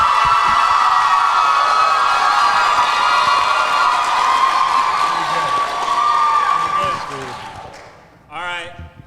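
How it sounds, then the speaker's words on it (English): A pre-party crowd before a Taylor Swift Eras Tour show at the Loews Miami Beach Hotel cheers and claps loudly and continuously, the noise fading toward the end as a voice speaks. "So just clap and scream and holler for the person that you think should take home our final prize"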